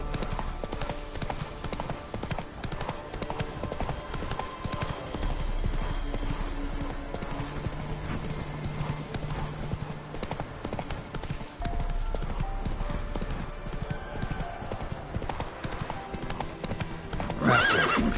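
The Witcher 3: the horse Roach gallops in a fast, steady clip-clop of hooves that runs loud and continuous throughout, with a whinny near the end and a voice speaking briefly over it.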